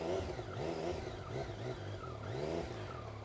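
A Yamaha MT-09 Tracer motorcycle from 2015 rides at slow speed, its engine burbling close by in a steady low rumble with small rises and dips in revs.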